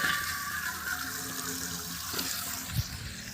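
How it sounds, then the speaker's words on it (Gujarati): Steady rushing water runs throughout, like a stream pouring from a tap, with a faint low thud near the end. "જો આ પાણી પડે છે"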